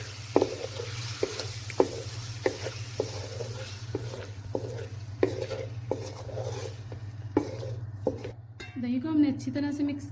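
Spoon scraping and clinking against a pot while yogurt is stirred into a masala for an instant karahi, with scattered taps over a steady low hum and a brief sizzle near the end.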